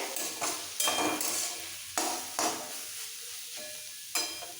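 Chichinga (snake gourd) vegetables stirred in a pan for a poppy-seed dish, with a run of scraping, rustling stirs in bursts and a soft sizzle between them, fairly close, no talking.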